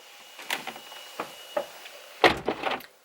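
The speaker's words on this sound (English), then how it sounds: "I'm gonna shut the door." Car door shutting inside a 2015 Porsche GT3, a firm thunk at close range followed by a few small clicks and rattles, with no voices.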